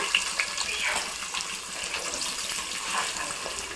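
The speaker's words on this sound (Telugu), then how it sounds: "నూనె గరం అయింది ఆల్మిక్స్ గరం మసాలా వేస్తున్నా ఆకేసిన ఉల్లిగడ్డలు వేస్తున్నా" Onions and garam masala go into hot oil in a pan, giving a steady, close, rushing sizzle with brief crackles at the start and no talking.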